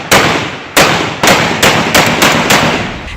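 Police gunfire during a clash, a series of six loud, sharp cracks spaced roughly half a second apart, each with a short echoing decay, with no voices in between.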